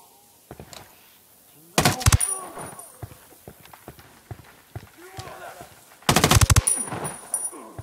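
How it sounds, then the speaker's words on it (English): Automatic machine gun fire in the video game Ghost Recon Wildlands, two loud sustained bursts over in-game sound effects and scattered impacts, with no talk over it. "I'm opening fire."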